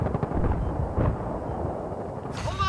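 An RPG blast in Battlefield 3 gameplay lands as a loud, dense wash of gunfire and explosion noise, with a sharp burst near one second and another bright impact toward the end.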